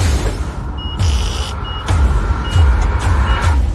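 Garbage truck from a film reversing, its loud electronic backup beeps repeating at a steady pulse over a low diesel engine rumble and hissing air, close and with no talk.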